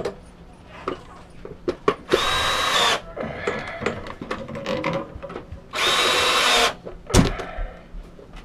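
Power drill driving screws into a water heater cover plate, two loud whirring bursts of about a second each separated by clicks and handling knocks.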